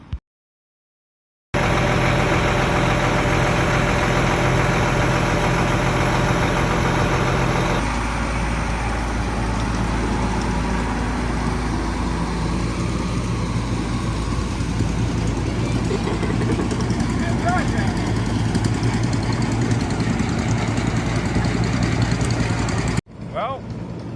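A Steiger tractor engine runs loud and steady at close range, a continuous heavy diesel drone that shifts to a rougher, lower rumble partway through and then cuts off abruptly near the end.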